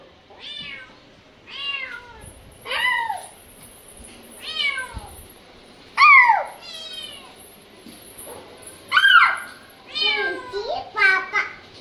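A cat meows again and again, about ten clear rising and falling calls at close range, some loud and drawn out, with short pauses between them.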